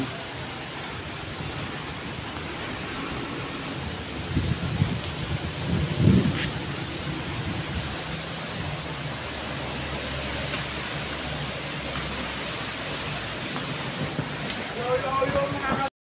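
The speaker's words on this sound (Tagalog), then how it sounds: "Lakas ng ulan." Heavy rain pours steadily with strong wind, a low rumble of thunder rolling in partway through, and a voice speaking briefly over the storm.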